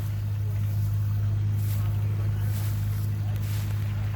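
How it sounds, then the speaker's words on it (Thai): A fishing boat engine running out on the water while hauling a net, a steady low droning hum that never lets up, with wind noise over the microphone and someone talking over it. "ติดเครื่องแล้วพุ่งไปเหมือนเดิมนะครับ"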